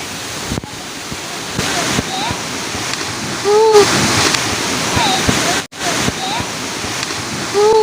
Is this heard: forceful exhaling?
no